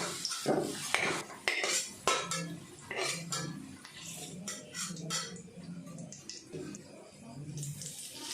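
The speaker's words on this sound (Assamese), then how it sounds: "এতিয়া মই আলুখিনি এখন কাঁহীত এই গোটেইখিনি মই উঠাই থৈ দিম" Fried potatoes being lifted out of a pan onto a plate, with close clinks and scrapes of a utensil against metal and crockery, scattered and uneven, and someone talking quietly beneath them.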